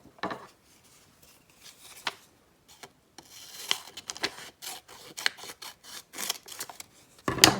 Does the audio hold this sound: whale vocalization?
no